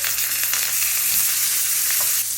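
Dried fish sizzles and crackles steadily in hot oil in a pan, a dense, loud, continuous frying hiss with a brief low stirring thump partway through and no voices.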